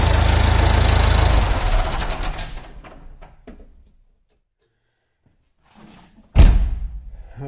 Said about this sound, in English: Before you shut it down, it's always best to let it idle for a couple of seconds